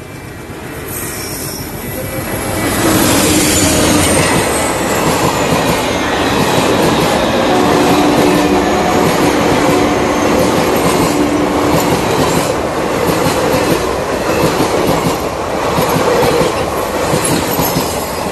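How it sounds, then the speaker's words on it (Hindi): A train rumbles past close by, loud and sustained, with rhythmic clattering wheels and occasional metallic squeals along the rails. "लोकल ट्रेन है ये"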